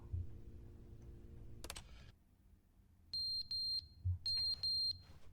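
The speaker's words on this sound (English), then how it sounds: "Oh, the fire alarm is out of batteries." Repeated electronic chirps from an out-of-battery fire alarm in The Stanley Parable, arriving as several sharp, loud high beeps in an irregular cluster after a burst of clatter and room noise.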